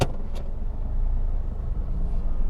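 Car pulling away in first gear, a steady low engine and road rumble from inside the cabin, even in level with no speech.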